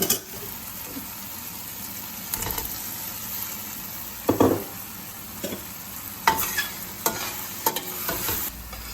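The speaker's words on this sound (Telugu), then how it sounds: "ఎగ్స్ వేసుకున్నాక 2 మినిట్స్ ఇలా ఫ్రై చేసుకోవాలి." Eggs frying in spiced chilli oil in a pan for egg curry, giving a steady close sizzle with scraping stirs and a few louder clangs of the spoon.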